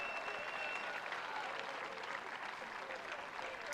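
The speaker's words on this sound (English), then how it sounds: "And applause all round" Applause from a football stadium crowd at a women's league match rolls on steadily at a moderate distance, a dense wash of clapping throughout.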